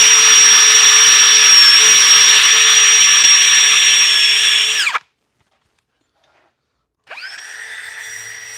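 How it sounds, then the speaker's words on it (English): A handheld power sander whines loudly and steadily on wooden project parts for about five seconds, cuts off into silence, then starts up again near the end. "Now we're going to sand these"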